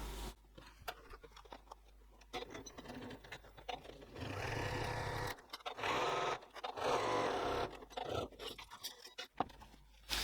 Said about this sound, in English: So I'm going to stitch across there with a 1 cm or 3/8 of an inch seam allowance, stopping and starting at the lines.